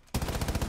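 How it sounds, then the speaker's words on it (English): A rapid automatic burst of gunfire aimed at a wall in Rainbow Six Siege begins abruptly and continues in quick, evenly spaced loud shots, close and alone. "I knew if I just shot at the wall long enough, Seth would handle it."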